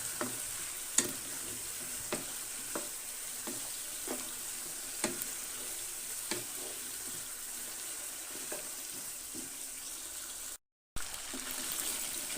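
Chicken fries in a pan, hissing with a steady sizzle while a spoon stirs it, leaving sharp scraping strokes at irregular intervals and a brief dropout near the end.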